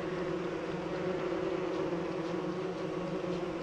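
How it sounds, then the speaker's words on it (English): Bees from the video game Don't Starve Together drone in a steady, close buzzing swarm that holds an even pitch and loudness throughout, with no voices. "So with the marble suit on, I can't outrun these bees."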